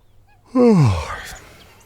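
A single short yawn, a rising then falling breathy groan, heard up close against near silence.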